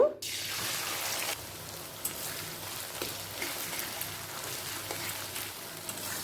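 Potato sticks frying in hot oil on a medium-high gas flame, a steady dense crackling sizzle that holds evenly throughout, close and fairly loud, with occasional faint clicks and no talk.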